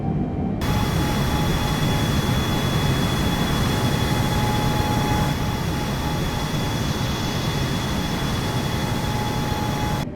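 Boeing 747 jet engines roaring in a climb in Microsoft Flight Simulator, a steady, loud, broadband rumble with a thin high whine held throughout.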